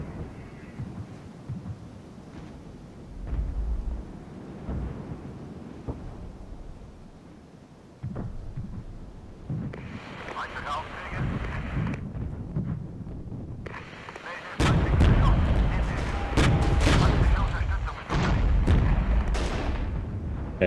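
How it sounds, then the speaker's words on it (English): Heavy booms from airstrikes and artillery in the Regiments military strategy game, repeated dull blasts that grow denser and louder toward the end, with rumbling battle noise between them and no speech. "as soon as they show themselves, we'll bring in an airstrike."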